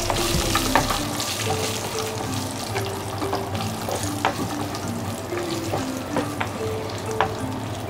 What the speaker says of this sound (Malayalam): ഇനി നമുക്ക് അതിലേക്ക് കുറച്ച് കറുത്ത ഉണക്കമുന്തിരി ഇട്ട് കൊടുക്കാം.